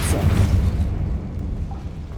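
Repulsor spell cast in the Hogwarts Legacy game: a loud, heavy burst that hits at once, then trails off into a lower rumbling tail over about two seconds.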